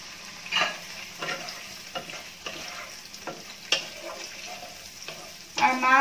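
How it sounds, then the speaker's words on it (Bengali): Prawns coated in turmeric and salt fry in hot oil in a pan, giving a steady close sizzle broken by several sharp scraping stirs of a utensil against the pan. "তো মাছটা দিয়ে জাস্ট একটু ভাজবো, বেশি ভাজা যাবে না কারণ বেশি ভাজলে চিংড়ি মাছ কিন্তু শক্ত হয়ে যায়"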